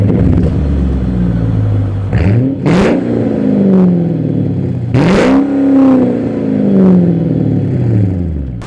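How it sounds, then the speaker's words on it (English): A Mercedes CLK AMG V8 idles with a deep steady rumble, then revs hard in two sharp blips that swell and fall back, close and loud with no talking. "just listen to that V8."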